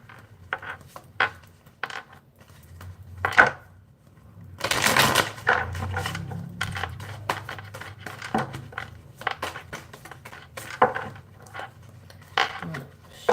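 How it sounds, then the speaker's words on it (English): Tarot cards being shuffled at close range: irregular bursts of crisp riffling and slapping card sounds, with a longer dense flurry in the middle and scattered taps and clicks around it, in a quiet room. "shuffle this one last time and then whoa, way too many cards"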